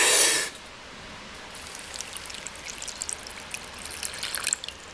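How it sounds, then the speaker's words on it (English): Water trickles and dribbles steadily into a cleaning-powder mixture for treating metal-detecting finds, following a brief louder splash at the start; close and fairly quiet with no talking. "Add the water."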